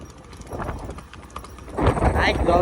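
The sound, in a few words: horse hooves clip-clopping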